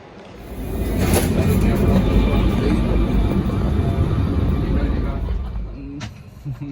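A passenger train in Spain bound for Ronda, routed via Córdoba toward Málaga, gives a loud, close, continuous rumble that swells and holds steady, then eases with a few sharper clanks near the end.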